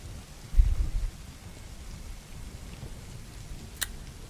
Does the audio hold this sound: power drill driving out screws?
no